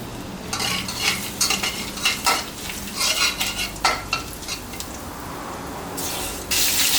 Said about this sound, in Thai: เอากระเทียมลงไปเจียวให้หอมนะครับ